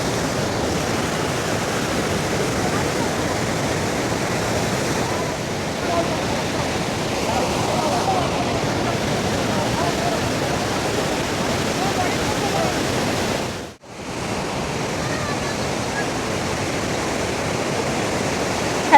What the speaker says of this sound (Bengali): এখানে জলের স্রোতটা দেখুন, জানি না আমার কথাগুলো শোনা যাচ্ছে কিনা এত আওয়াজে